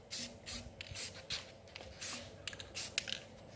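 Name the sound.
spray painting wooden timbers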